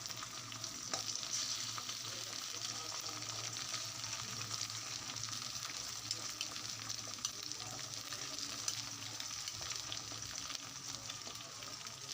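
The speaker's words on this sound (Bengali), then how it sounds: "ডিমটা ভেজে নিলাম আগে" Egg frying in an oil-filled pan in a home kitchen, a steady continuous sizzle with faint stirring, moderately quiet and unbroken, with no talking.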